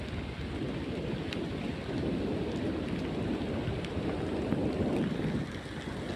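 Steady rain pours down on Areekkan hill, recorded on a mobile phone, with a dense, continuous hiss, rumbling low beneath it like distant thunder or wind buffeting the microphone.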